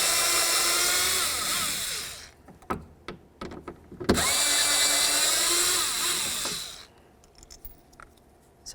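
A power tool drives out the sensor mounting bolts on a 2007-2017 Ford Expedition front door, whirring loudly in two long runs separated by short clicks and clatter, with no voices.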